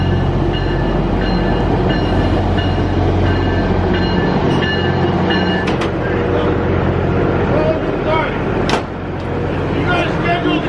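A VIA Rail Budd car on the Lake Superior line between White River and Sudbury arrives, a loud low rumble and steady hum with tonal whines and sharp metallic clanks near the end, under occasional talk.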